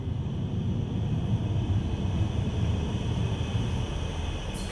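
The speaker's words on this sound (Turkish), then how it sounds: "Ve trenimiz geldi." A train pulls into an underground station in the game Underground Blossom, a steady low rumble with a broad hiss and faint tonal whine holding evenly throughout, no voices over it.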